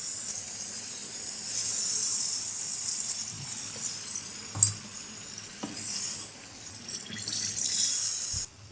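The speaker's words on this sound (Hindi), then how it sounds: "इस स्टेज पर हम इसमें 2 कप जितना पानी डाल देंगे।" Water gushes into a pan of sizzling potato, pea and carrot curry gravy that has been fried until the oil separates, a steady hissing pour with soft splashes and a faint clink near the end.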